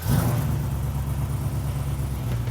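A car with an LSA V8 engine, started remotely, gives a short burst as it fires, then settles into a deep, steady, rumbling idle nearby.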